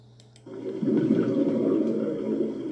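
A burst of scuba diver breath bubbles underwater rushes up in a steady, low gurgling roar that fills the rest of the moment.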